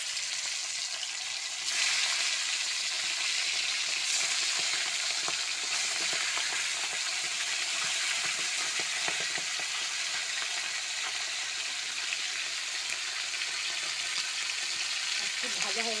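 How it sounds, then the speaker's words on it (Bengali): Pomfret fish fry in hot mustard oil in a wok, giving a close, continuous sizzle that swells just after the start and then holds steady throughout. "আমি প্রথমে মাছটাকে ভেজে নেব। আমি কড়াই সর্ষের তেল দিয়ে দিয়েছি, তেলটা গরম হয়ে গেছে। এবার পমপ্লেট মাছগুলো আমি ছাড়বো।"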